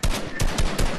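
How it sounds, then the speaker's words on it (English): Gunfire in a Fortnite match, several rapid bursts of shots in quick succession, loud and close, with no talking. "Somebody's legit shooting from behind."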